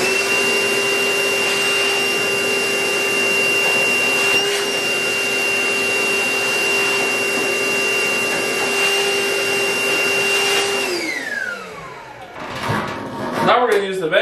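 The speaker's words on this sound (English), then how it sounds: "we're going to switch over to the vacuum." A vacuum cleaner runs steadily at close range as it sucks lint out of a clothes dryer. Its constant whine holds for about eleven seconds, then drops in pitch and gives way to clattering and shifting noises.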